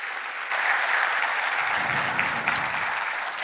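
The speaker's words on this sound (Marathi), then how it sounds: "या नारी शक्तीसाठी टाळ्यांचा कडकडाट अजून एकदा व्हायला पाहिजे" A crowd at a business event gives dense, continuous applause to honour a group of women, a steady roar of clapping from many hands.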